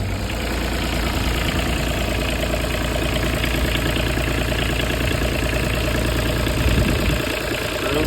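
Kubota diesel in a Bobcat 323 mini excavator idling after a cold start, a close, loud, steady knocking chug that runs without a break, with no voices.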